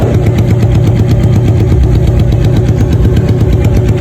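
A Honda Supremo motorcycle engine revs loud and close, its rough, rapid firing pulses running steadily with a knocking, gunfire-like rattle throughout, no voices heard.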